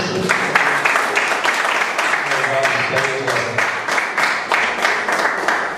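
A church congregation gives a round of applause, the clapping rhythmic and moderately loud throughout, with some voices mixed in.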